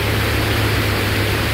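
Continuous water noise from the Putamitsa river passing under a footbridge in Yalta, an even, close rush with a faint low hum beneath it.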